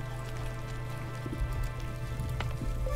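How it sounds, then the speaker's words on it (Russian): Rain falling in the video game The Wandering Village, a steady soft patter of drops over a low constant hum, with faint scattered taps throughout. "Ой, дождик. Капает на лбу, повышая влажность."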